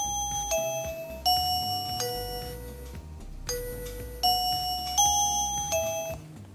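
SmartThings doorbell 'bell two' chime: a repeating electronic bell pattern of several clear strikes, a pause, then the pattern again, ringing notes sustaining over a quiet background hum.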